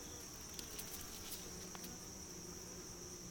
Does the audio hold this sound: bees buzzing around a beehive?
yes